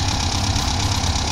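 A Toyota Corolla KE36 winter drift car idles with a steady, close, low rumble that holds even throughout, with no talking over it.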